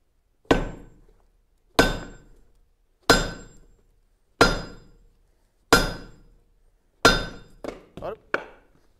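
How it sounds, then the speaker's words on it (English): A hammer strikes metal in sharp, ringing blows on a treadle hammer, five evenly spaced hits followed by a quicker cluster of three, each decaying between strikes. "Go ahead and hammer straight down on there."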